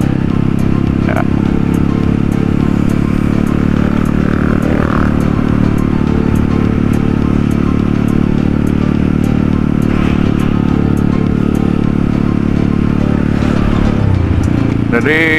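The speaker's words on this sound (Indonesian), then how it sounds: "Jadi tadi terlihat ada sekitar 7 motor cuy, 7 motor konvoy di dari stasiun Cakung." A convoy of about seven motorcycles carrying students rolls past from Cakung station, a loud continuous roar of engines and road noise with clatter throughout, and a voice talking over it.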